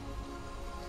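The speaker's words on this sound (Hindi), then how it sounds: "अब जो है बारिश हो गई है" Rain falls in a steady, soft hiss, a quiet and continuous patter without any voices.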